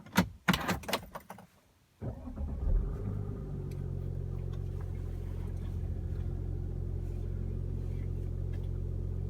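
A 2016 Audi Q5 SUV with a 3.0 TDI diesel engine and 20-inch summer tires starts moving after a few sharp knocks and a brief pause. A steady low engine drone and road rumble then run without a break and without talk.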